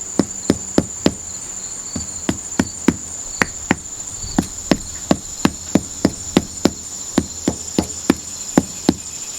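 Paver bricks tapped into a sand bed with a mallet, sharp regular knocks repeating about twice a second over a steady high insect whine, close and moderately loud, no voices.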